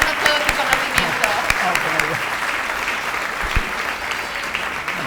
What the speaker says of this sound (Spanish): le damos un fuerte aplauso a Juan Ignacio